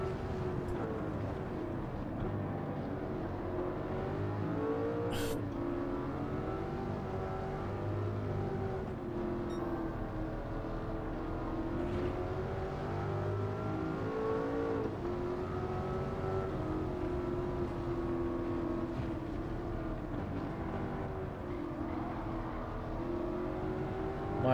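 A car engine in Gran Turismo 7 runs loudly and continuously, a steady droning roar with rising and falling revs throughout, with no talk over it.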